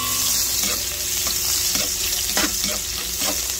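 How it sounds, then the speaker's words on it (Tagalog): Garlic sautéing in a pan reused after frying, a loud continuous sizzle and hiss close up with a few scraping stirs of a utensil, no talking. "from the same pan, gisa na tayo ng bawang"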